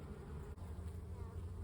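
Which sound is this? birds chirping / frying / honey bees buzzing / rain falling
honey bees buzzing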